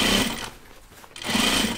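A sewing machine stitches through thick fabric seams with ribbon on a dopp kit, running in two close, buzzing bursts separated by a short pause.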